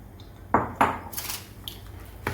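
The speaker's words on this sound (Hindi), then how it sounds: "तेल डालकर फिर हम इसको अच्छे से मिक्स कर लेंगे" A spoon clinks and scrapes in a bowl as mixed vegetable pickle is stirred with mustard oil, two sharp knocks followed by softer scraping, close by and quiet.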